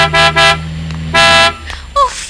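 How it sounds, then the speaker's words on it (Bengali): A car horn honks in three bursts, the first two short and close together and the third longer after a pause, loud and near over a low idling engine, with a brief faint voice at the end. "এতবার করে হর্ন বাজাচ্ছি, শুনতে পাচ্ছে না"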